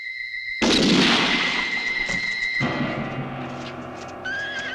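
Gunfire in a 1971 Italian western: one loud, sharp blast that rolls into a long reverberant rumble, over a steady high-pitched tone, with no talk.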